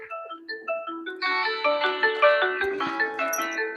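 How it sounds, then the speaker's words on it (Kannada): A melodic electronic phone ringtone plays, a short rising tune followed by a louder, fuller repeating jingle. "ಫೋನ್ ಅಂದ್ ಬತ್ತು ಯಾರು ಹಚ್ಚಾರ"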